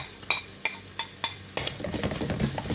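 Onions tipped into a pan while cooking adobo with kangkong: a few sharp utensil taps, then a sudden, loud, crackling sizzle that continues to the end.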